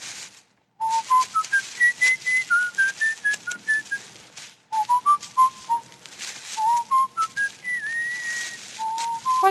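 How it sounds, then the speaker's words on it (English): Someone whistles a melodic tune close up, a string of clear notes rising and falling in phrases, with a short pause partway through. "What's that you're whistling?"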